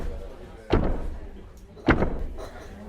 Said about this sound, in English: As soon as the door closed